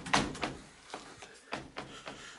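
A car door on a ZAZ Slavuta is swung closed again and again, producing a run of fairly close, dull clunks and knocks spaced about half a second apart.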